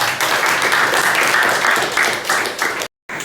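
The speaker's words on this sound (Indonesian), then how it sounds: "tepuk tangan untuk Tasya." A classroom full of people clapping together, dense and lively applause that swells briefly, then a short dropout and the clapping resumes.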